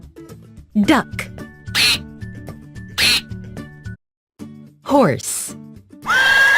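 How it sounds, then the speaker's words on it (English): A duck quacks several times in a children's animal-sounds compilation, short nasal calls coming in bursts, with a voice present alongside. "Duck."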